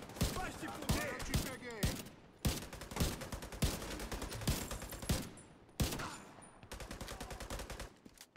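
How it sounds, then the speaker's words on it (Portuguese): Pestilence, an exotic light machine gun in The Division 2, firing in short punchy bursts with sharp separate shots and brief pauses, loud and close, with faint voices in places. "eu tô usando essa outra arma aqui. O nome dela é Pestilência. É uma metralhadora leve, ela é exótica."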